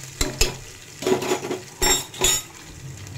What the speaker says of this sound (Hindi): प्याज को हल्का ब्राउन होने तक भून देंगे